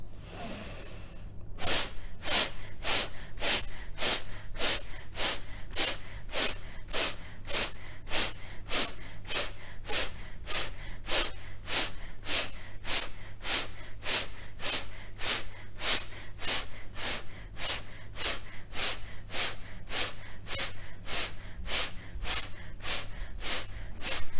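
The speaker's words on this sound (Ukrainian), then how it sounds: "глибокий видих і глибокий вдих через нос" Deep breathing through both nostrils during a breathing-practice course, a long steady series of rapid, evenly spaced forceful nasal breaths, loud and close, continuing without talk.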